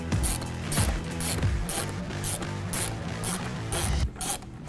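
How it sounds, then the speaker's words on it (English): Mechanical ratcheting and scraping while a power steering reservoir mounting screw is removed on a 2017-2026 Ford Powerstroke 6.7L, with repeated rhythmic clicking bursts over about five seconds at close range, no talk. "you're then gonna remove the power steering reservoir mounting screw."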